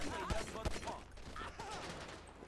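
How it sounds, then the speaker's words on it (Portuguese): Machine gun fire in a GTA 5 zombie match, a few sharp distant bursts under excited talking voices. "Eles são de metralhadora, véi!"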